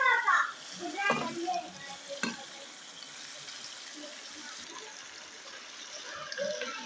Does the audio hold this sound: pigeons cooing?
no